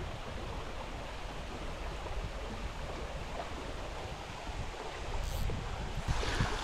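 Upstream wind blows steadily on the Gunpowder River, a broad continuous rush of air and moving water that holds level throughout and swells slightly near the end, with no talking.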